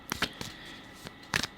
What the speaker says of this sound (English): I really like rip shuffling the bigger cards.